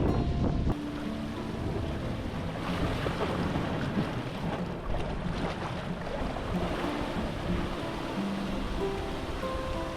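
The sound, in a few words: ocean waves on rocky wave cut platform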